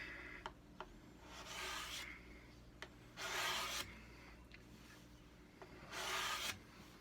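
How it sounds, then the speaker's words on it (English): A hand scraper strips old finish from a wooden guitar top in several separate raspy strokes, each lasting about a second, close and fairly quiet, with short pauses between them. "So we're going to scrape."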